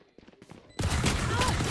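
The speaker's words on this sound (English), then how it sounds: "as Siesta hits the headshot" A burst of gunfire in a Valorant match, starting sharply after a quiet moment with a few faint clicks and then continuing loud and dense under commentator talk.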